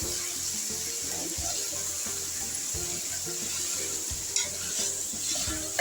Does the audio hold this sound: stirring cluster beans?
yes